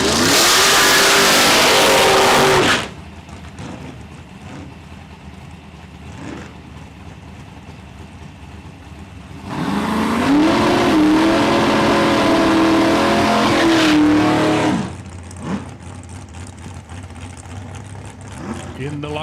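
Drag racing cars, including a dragster and a 1986 Buick Regal, roar at Saskatchewan International Raceway in two loud sustained engine blasts separated by quieter idling and crowd ambience, with an announcer talking.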